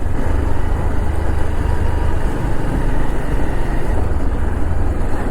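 A vehicle engine driving along the Vagamon hill road, a steady loud low rumble with road noise that holds constant throughout, with no talk.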